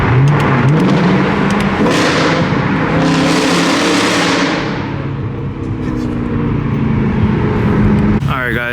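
A Dodge Hellcat's engine revs and roars at close range during a cruise, with loud throttle swells rising and falling and other cars nearby, while people talk over it.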